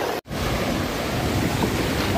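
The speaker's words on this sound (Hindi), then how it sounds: "काफी बड़ी बड़ी वेव्स आ रही हैं।" Big ocean waves roll in at Paradise Beach, Pondicherry: a continuous surf roar with wind buffeting the microphone, close and fairly loud, with no talking over it.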